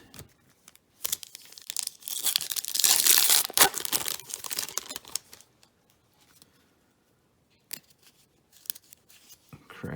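Foil wrappers on 2005 Pacific hockey card packs are torn open and crinkled up close in bursts of ripping and rustling, separated by quiet gaps.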